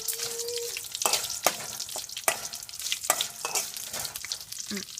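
Pieces of drumstick (moringa pod) fry in hot oil for a mochai kulambu, giving a soft continuous sizzle broken by several sharp spatula clacks and scrapes against the pan.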